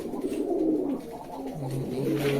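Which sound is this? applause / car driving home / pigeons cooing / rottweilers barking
pigeons cooing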